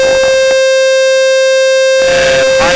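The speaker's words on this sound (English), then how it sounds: "And high tachometer alarm, that's what it is." A loud, steady electronic tone from a high tachometer alarm sounds continuously in an RV-7 aircraft cockpit, over engine drone, with brief radio bursts.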